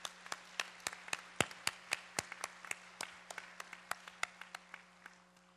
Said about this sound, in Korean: 우리 하나님께 큰 영광의 박수 한번.